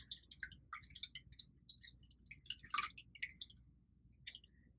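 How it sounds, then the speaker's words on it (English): A chilled cocktail is poured through a strainer into a glass: faint, close trickling and dripping with scattered splashes and small wet clicks over a quiet background. "and pour our drink."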